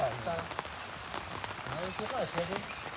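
Rain falls steadily on surfaces outdoors in a Gujarati setting, a constant patter running beneath someone talking nearby.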